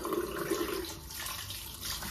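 Water running steadily from a bathroom tap into a sink while someone washes their face, a continuous splashing hiss heard close up, with no talking.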